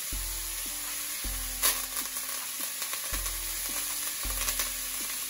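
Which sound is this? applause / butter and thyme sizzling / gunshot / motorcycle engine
butter and thyme sizzling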